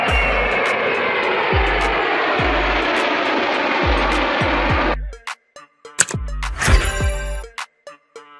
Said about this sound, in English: Fighter jet.